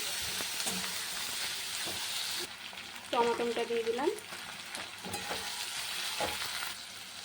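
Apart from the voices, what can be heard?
potatoes frying in pan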